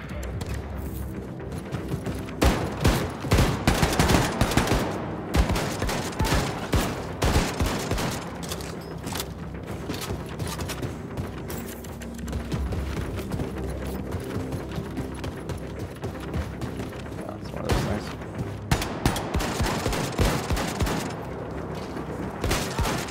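Rapid gunfire in Wolfenstein 2, loud repeated shots and automatic bursts rattling on without pause, dense and close through a long firefight.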